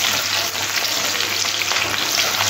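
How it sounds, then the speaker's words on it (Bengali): Garlic, ginger and green chilli sizzle steadily in hot oil, a dense continuous frying hiss with light stirring scrapes throughout, close and fairly loud with no talking. "একটু নাড়াচাড়া করে ভেজে নেব।"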